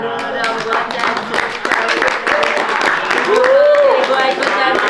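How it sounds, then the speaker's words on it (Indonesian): Applause and clapping from an evening event audience, a dense steady patter of hands running throughout under a busy room with voices and music. "Tepuk tangan dulu dong buat Champs."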